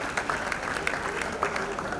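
Audience clapping at the close of a fireside chat with Iyin Aboyeji, a steady dense patter of many hands sustained throughout, moderately loud with a busy room behind it.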